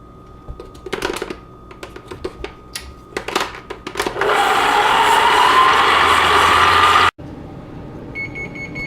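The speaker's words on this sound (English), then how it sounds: "We're going to want to mix this on medium speed for about 2 minutes until the sugar and the butter is all creamed together" A stand mixer creams sugar and butter at medium speed, a loud steady whir starting abruptly about halfway through and cutting off suddenly, after scattered clicks and knocks.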